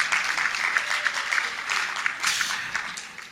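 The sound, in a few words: audience applause for All Saints University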